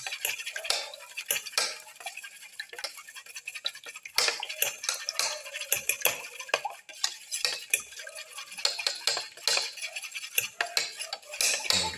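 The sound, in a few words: mixing eggs in a bowl for an omelette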